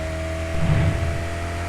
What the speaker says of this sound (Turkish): Efsane bir araba bulduk arkadaşlar.